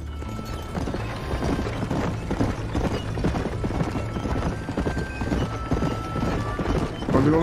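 Horse hooves clip-clop steadily at a walking pace in the Red Dead Redemption western game, a continuous close rhythm filling the scene with no one talking over it.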